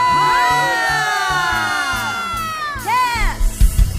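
A church congregation shouting hallelujah in response to a pastor, a loud swelling crowd of overlapping voices rising together, then breaking into scattered whoops and cheers toward the end.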